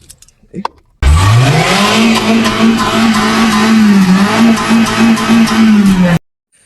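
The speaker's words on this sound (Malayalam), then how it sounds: "ഇനി വണ്ടി ഒന്ന് സ്റ്റാർട്ട് ചെയ്ത് നോക്കട്ടോ" A Maruti Zen car engine cranks and catches, then settles into a steady, loud idle hum close by for several seconds before cutting off abruptly.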